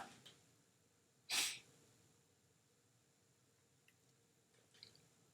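A single sharp sneeze bursts out close by, then a quiet room with faint rustles and a soft click afterward.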